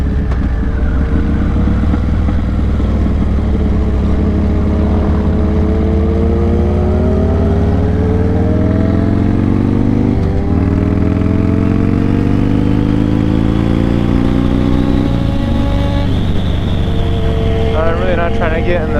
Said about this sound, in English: I'm about to be held up by a group of fucking sport bikes.